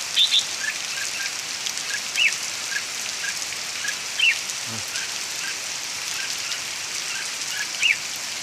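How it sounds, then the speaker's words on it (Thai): Steady rain falling in a Thai backyard, a continuous even hiss throughout, with small caged birds chirping briefly and repeatedly in the background. "สุดท้ายก็ฝนลงเลย"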